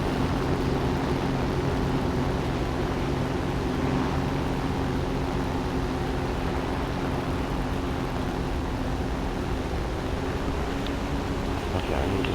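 An enemy plane in a WWII video game drones overhead with a constant, loud engine hum that stays level and unbroken the whole time.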